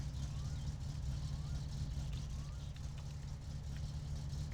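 Car engine idling in neutral at slightly lowered RPM in My Summer Car, a steady low, droning rumble that holds evenly throughout, faint and unbroken.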